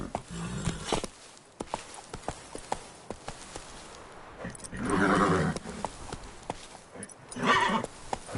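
Roach the horse galloping in The Witcher 3, rhythmic hoof clip-clops with a couple of louder whinny-like swells over game ambience, no talking.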